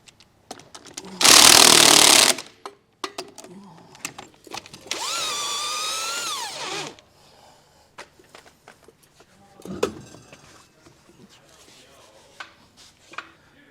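Power tool, likely an impact wrench, spinning off lug nuts to remove wheels and tires from a 2018 Keystone tandem axle trailer: two loud bursts of a few seconds each, then quieter clanks and handling noises.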